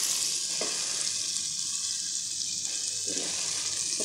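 Finely chopped tomatoes fry in a pan with a steady, soft hiss and sizzle, with faint stirring scrapes now and then, quiet and close by.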